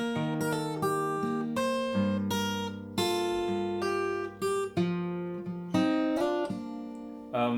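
Fingerstyle acoustic guitar plays a tricky passage from a song arrangement, with plucked notes and ringing chords in an uneven rhythm, close and fairly loud with no talking.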